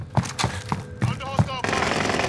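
Gunfire in Call of Duty: Modern Warfare: several sharp shots in an irregular burst, loud and close, followed by a dense rushing noise.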